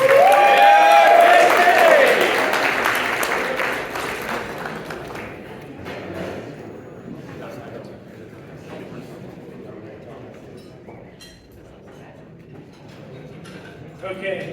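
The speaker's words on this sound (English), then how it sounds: "So everyone, please give her another round of applause." Audience at a Young Conservatives of Texas state convention in Dallas applauds and cheers loudly for a few seconds, then the crowd noise fades into a low, scattered murmur of clapping and chatter.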